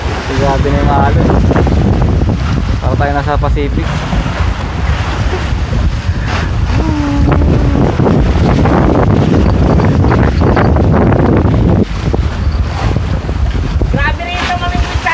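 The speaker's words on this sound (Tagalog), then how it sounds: "Grabe na yung alon." Rough Pacific Ocean swell and strong wind buffet a fishing trawl boat out at sea, steady wind roar and wave wash filling the whole clip beneath intermittent close talk.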